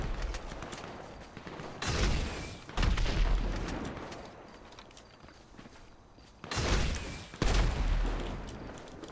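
Two short bursts of machine gun fire ring out in the video game GTA V, each lasting about a second and separated by a long stretch of quieter game ambience.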